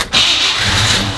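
A car engine cranks and catches after a brief pause, then settles into a steady, loud idle for about a second.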